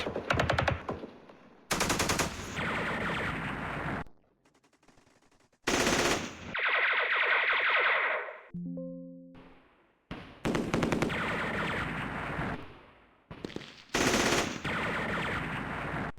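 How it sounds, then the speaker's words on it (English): Automatic gunfire from soldiers in a Vietnam war strategy video game, loud sustained bursts of rapid fire separated by short gaps, with a brief tonal game sound between bursts. "But while they're doing it, they're also going to shoot back."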